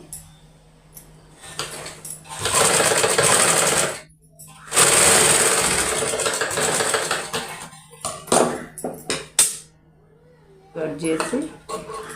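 A sewing machine stitching a blouse along the neck side runs in two long whirring bursts and then several short stop-start runs, loud and close, with someone talking in the quiet gaps.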